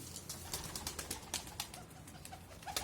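Soft, repeated flapping bursts of pigeon wings rise and fall at a quiet level as birds are released from a coop, with no voices.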